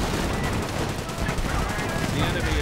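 Gunfire and grenade blasts from a real-time strategy video game battle, with grenadiers lobbing grenades at Canadian riflemen near a base; dense, continuous crackling fire with bursts throughout, mixed under a faint voice.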